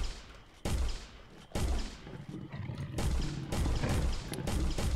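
Gunshots in the video game Finding Bigfoot, several loud booming shots with sudden onsets, the last one followed by a sustained rumbling roar, no talking.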